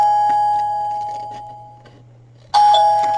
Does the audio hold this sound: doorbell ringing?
yes